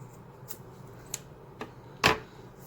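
Scissors snip through the end of a paracord monkey fist: a few faint, isolated clicks and cuts, ending in one sharper, louder snip, close up in a quiet room.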